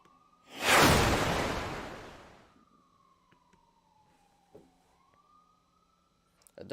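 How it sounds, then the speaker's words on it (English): A siren wails in the distance, rising from a whooshing swell and then holding a long, slowly falling and rising tone, faint under the room sound. "Here comes another siren."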